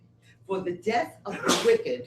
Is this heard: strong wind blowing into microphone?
no